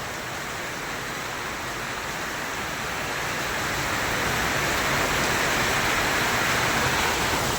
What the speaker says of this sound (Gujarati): બહુ વરસાદ પડે છે